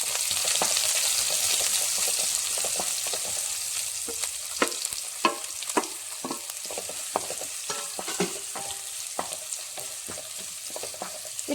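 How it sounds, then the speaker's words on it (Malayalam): A large chopped onion with crushed garlic sautés in a pan, a continuous close sizzle broken by repeated spatula scrapes and clinks that grow more frequent after the first few seconds, with no talking. "ഇട്ടൊന്ന് വഴറ്റി കൊടുക്കാം"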